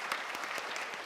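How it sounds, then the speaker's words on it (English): An audience at a live creator-industry event gives a brief, steady round of applause, dense clapping filling the moment with no voices on top. "I think we all owe Jess a huge round of applause"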